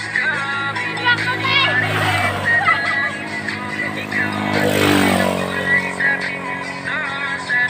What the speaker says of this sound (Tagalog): Motor ha, motor.